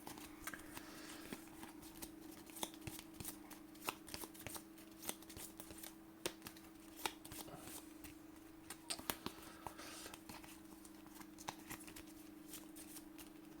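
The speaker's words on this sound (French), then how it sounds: "On va remélanger." Cards for the Aeon's End deck-building game being reshuffled: quiet, quick papery riffles and taps repeat steadily for several seconds over a low room hum, with no talking.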